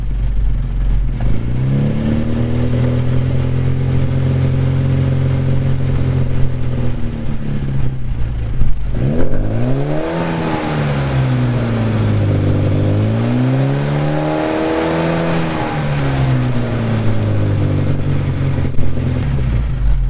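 A car engine controlled through a theremin revs up and down in smooth sweeping swells, holding a loud continuous drone with rising and falling pitch and no talking.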